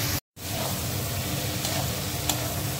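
Spiced masala sizzles in a pan as its water cooks off and the oil separates, ready for banana flower to be added; a steady, close, hissing fry with soft stirring runs throughout, broken by one brief silent gap near the start, with no talking.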